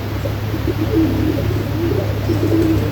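Pigeons coo softly inside a crowded pigeon house where birds sit on eggs, the low rolling coos repeating steadily over a constant background hum with no talking.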